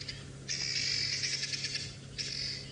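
Birds call from the bush during a sunrise safari drive, a bright sustained chirping and trilling that fades briefly and then returns over a low steady background hum, with no talk.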